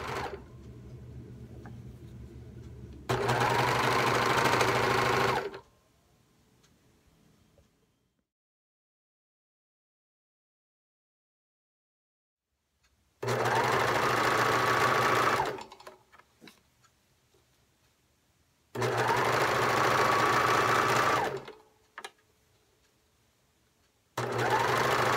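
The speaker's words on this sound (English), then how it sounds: "And then I'm going to sew this on to this section, leaving a space for the thumb." A sewing machine stitches pieces of fingerless gloves together in three loud, steady bursts of whirring, separated by long quiet pauses.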